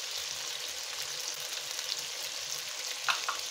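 Fried onions going into a pan of haleem as it cooks, giving a steady soft sizzle throughout with a couple of faint clinks near the end; no talking.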